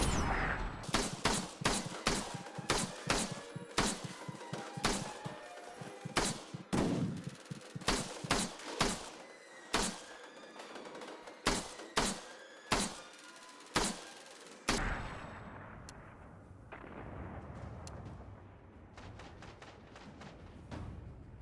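Rapid bursts of gunfire aimed at the boss Valus Ta'aurc in the Destiny video game, loud repeated shots in a steady rhythm for most of the stretch, then a few sparser shots over a softer background near the end, with no talking.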